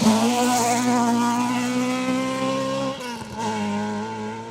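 A Mark II rally car, stated as a Ford Mark II at a Yorkshire Trackrod Rally stage, howls past close by with a strong harmonic engine note that rises, dips sharply for a gear change near the end, then pulls again.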